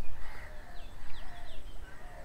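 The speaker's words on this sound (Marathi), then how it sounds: "बॅकग्राऊंडला पक्ष्यांचे आवाज ऐकायला येत असतील." Birds chirp and call in open countryside, several thin rising and falling whistles drifting over a steady noisy outdoor background, moderately faint and somewhat distant.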